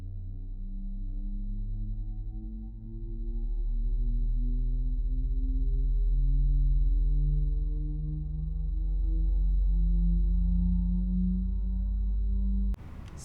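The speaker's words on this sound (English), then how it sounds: "Starting engine number 2." A Fenix Airbus A320 engine spooling up during start in Microsoft Flight Simulator, a steady rising whine with tones climbing gradually over many seconds under a constant low rumble, heard alone without talk.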